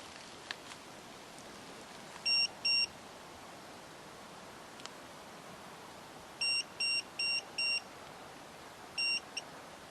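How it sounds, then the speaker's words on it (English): Short electronic beeps sound in a quiet room: a pair early on, then a quick run of four, then one more, each a clean high tone. "Beep it if your name is Nathan"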